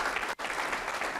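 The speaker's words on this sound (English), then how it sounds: "I think that deserves a hand clap" Audience applause fills a city's 2023 State of the City presentation, a steady wash of clapping that drops out briefly before continuing loud and even.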